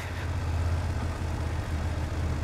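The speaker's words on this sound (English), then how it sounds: "the engine sounds lovely when it's just poodling along. It does sound quite growly." A low, growly engine of a 2024 BMW F800 GS motorcycle runs steadily at low revs, a continuous rumble close by with no other sounds over it.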